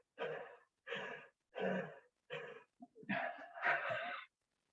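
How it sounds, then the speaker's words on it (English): Wide-open yawning breaths drawn through the mouth, about five loud, close, airy breaths with short gaps between them, the last two running together and lasting longer, with no talking. "you yawn and open your mouth as wide as you can, and you're going to breathe through that yawn"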